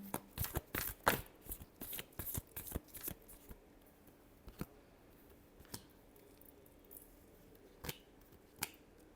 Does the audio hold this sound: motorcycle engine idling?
no